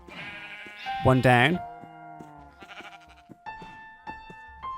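Minecraft sheep give a few short, wavering bleats in a video game, loud and close, with someone talking over and between them and small game clicks and chimes around.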